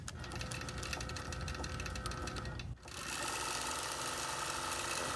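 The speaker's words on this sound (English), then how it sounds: "the machine is going to move to where it needs to begin stitching" A computerized quilting machine running Creative Studio 7.0 stitches steadily in a fast, dense mechanical whir, with a brief pause partway through before it resumes at a steady, close, continuous pace.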